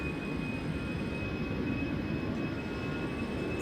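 An Air Canada wide-body jet taxiing at Schiphol gives off a steady, distant engine rumble with a faint high whine held throughout, unchanging and with no voices.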